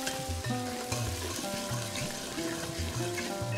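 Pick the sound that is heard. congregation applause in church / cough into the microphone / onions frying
onions frying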